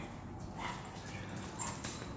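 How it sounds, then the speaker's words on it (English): A dog outdoors yips and whimpers faintly at a distance, short excited sounds over steady background noise. "Is there a dog out here?"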